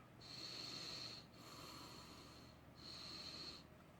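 Airflow hissing through a Tobecco 25mm Super Tank vape as it is drawn on, two long breathy pulls separated by a brief pause, close and steady.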